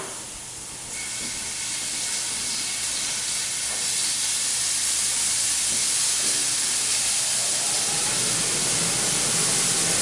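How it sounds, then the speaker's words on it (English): Steak strips sear in hot olive oil in a pan at medium-high heat, giving a loud, continuous broad hiss that swells after the meat goes in and holds steady. "and I'm going to sear it"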